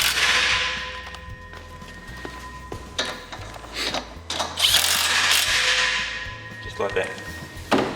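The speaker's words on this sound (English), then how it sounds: "We use a rattle gun, but they can be done by hand with a ratchet" An impact rattle gun drives grub screws or bolts that lock the handrails on telescopic tribune seating, firing several short loud ratcheting bursts with mechanical clanks in between, close to the listener.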